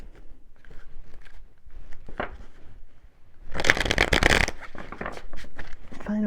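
A stiff deck of tarot cards being shuffled, a rough riffling burst in the middle surrounded by softer handling and rustling, close to the microphone.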